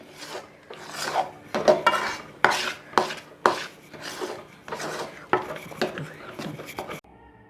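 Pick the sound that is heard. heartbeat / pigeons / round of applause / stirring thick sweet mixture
stirring thick sweet mixture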